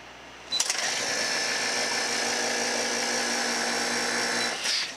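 A ClimACs CCST200 AC service machine starts with a sharp click, then runs with a steady, loud high-pitched whirring drone for several seconds before a brief change near the end; no one speaks.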